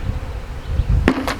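Honey bees that were swept into a bucket while stocking queen-rearing mating nucs give a dense, steady buzz. Near the end, a few sharp taps on the bucket land over the hum.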